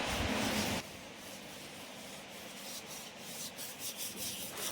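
Rubbing and wiping inside a large gear wheel with oil during hydraulic machine repair work, a steady scrubbing friction with uneven rhythmic strokes, close and moderately loud, following a brief louder burst at the start; no talking.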